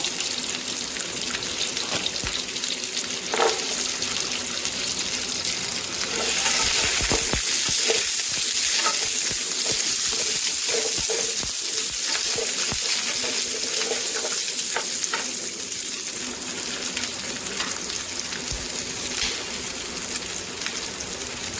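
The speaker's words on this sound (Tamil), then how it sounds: "இஞ்சி சின்ன சின்னதாக கட் பண்ணி சேர்த்துக்கலாம் இதையும் நம்ம மூனையும் ஓரளவுக்கு வதக்கி எடுத்துக்கலாம்" Ginger and garlic sauté in hot oil in a pan for Tamil-style mutton kuzhambu, giving a steady, close, fairly loud sizzle and crackle with occasional stirring scrapes that swell louder midway and hold.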